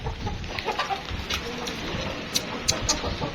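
A rooster clucks in short bursts over a busy, noisy background in Lahore, with a few sharper calls near the end.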